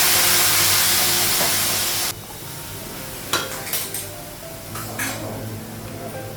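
Water poured into a pot of simmering eggplant curry, with a loud steady hiss that cuts off sharply, then softer sizzling with a few stirring scrapes and clinks of the pot.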